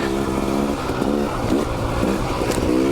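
A dirt bike engine runs steadily and close by, its harmonic drone rising and falling with a few throttle blips on a wet, muddy day.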